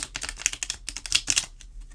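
Tarot card deck being shuffled by hand, a rapid run of crisp papery clicks and riffles in close, uneven bursts, with no voices.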